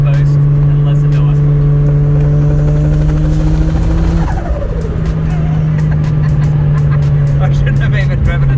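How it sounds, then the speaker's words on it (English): A car engine drones loud and steady at a low pitch while brake boosting, briefly dipping midway before holding its revs again, with a rough rumbling texture. "I'll do a little bit of a brake boost and listen to it."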